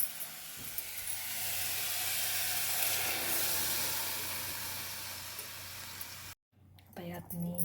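Masala paste sizzling with prawns in hot oil for a Konkan-style prawn saar, a loud continuous hiss that swells and fades, then cuts off abruptly as a voice begins speaking near the end.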